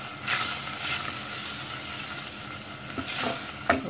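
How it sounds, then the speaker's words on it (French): Butter and flour sizzle softly in a pan for a mornay sauce, a steady hiss with a few brief scraping and stirring touches, no talk. "j'ai mis 2 cuillères à soupe de beurre que je vais faire fondre. Je vais ajouter un quart de farine."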